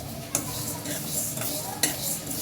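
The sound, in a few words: mung dal being fried and stirred in a pot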